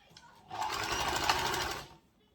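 A sewing machine runs in one steady, close burst of rapid stitching for about a second and a half while a dress is sewn, starting and stopping cleanly with quiet room sound around it.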